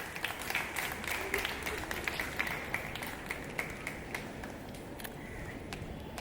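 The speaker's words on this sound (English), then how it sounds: "let's all join in with a big round of applause to all the winners" Steady applause from a crowd at a college Independence Day celebration, dense overlapping claps with scattered sharper hand strikes, continuing evenly throughout at moderate distance.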